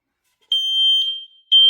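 An X-Sense smoke detector, fitted with a ten-year battery, sounds its test alarm: three loud, piercing electronic beeps in a steady rhythm, close and alone in silence.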